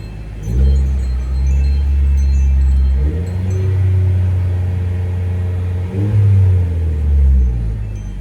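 A Chevy Cruze engine revs up several times in a row, deep rumbling bursts that rise and settle back to idle, close and loud.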